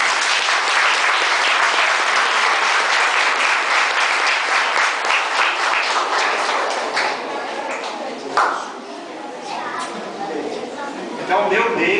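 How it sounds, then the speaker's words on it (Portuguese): An audience claps loudly for two children, with brisk, dense applause for about seven seconds. It then tapers off to scattered claps, and voices can be heard underneath. "Uma salva de palmas para as crianças."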